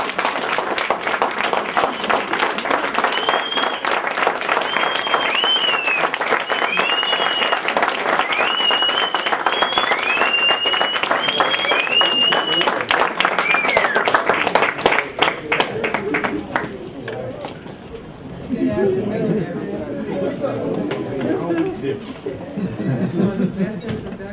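A lecture audience applauds a speaker with dense, sustained clapping for roughly fifteen seconds, voices rising over it, before the clapping thins and gives way to chatter and a speaker's voice.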